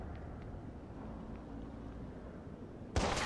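A single sharp, loud gunshot cracks near the end of a shootout in the video game Watch Dogs, over a low rumbling background.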